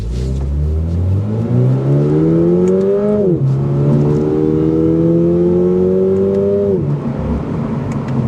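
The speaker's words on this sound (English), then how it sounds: "Catback exhaust, it should be fun. We have it in sport mode." A 2023 Toyota GR86 10th Anniversary edition with a catback exhaust, in sport mode, revs up twice through paddle-shifted gears, its engine note climbing steadily and then dropping at each shift. The sound is loud and close, with no talk.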